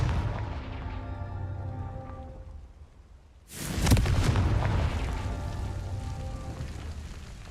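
A Confringo spell explodes in Hogwarts Legacy: a loud, sudden boom bursts out of a quiet lull midway, followed by a sustained rumbling, crackling blast that slowly fades but lingers over steady background game noise.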